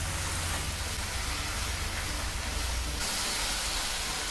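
Prawns pulav ingredients sizzle steadily in a hot pan, a continuous close hiss with no talking, shifting slightly brighter partway through.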